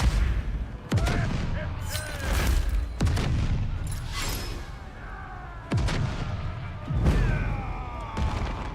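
Pirate ship cannons firing in the city-builder game Corsair Cove: a series of heavy booming blasts, about seven spaced irregularly, each followed by crackling debris and whooshing effects, loud and up close.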